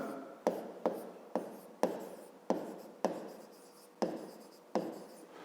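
A pen writes out a rectangle's perimeter formula in a fifth-grade maths exercise, seven or eight short scratchy strokes in a quick rhythm, each starting with a tap, close and alone.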